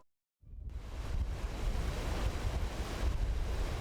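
Storm surge water churning and roaring wind from Hurricane Ike in Southeast Texas, a steady, loud rush of surf and wind buffeting the microphone that starts abruptly after a short silence and continues unbroken.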